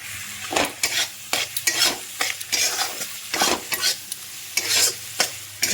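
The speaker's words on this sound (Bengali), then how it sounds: "এবার আবারও একসাথে সব ভালো করে মিশিয়ে নেব" A spice masala with a spoonful of Kashmiri chili powder, stirred in a hot oiled pan while cooking katla fish kalia: loud rhythmic scraping strokes over a constant sizzle, close up, with no voices.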